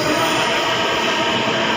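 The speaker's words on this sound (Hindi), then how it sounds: "वैशाली की मेट्रो आ गई है" Delhi metro train bound for Vaishali at a station, a steady, loud broadband rumble and hiss filling the whole moment with no pauses.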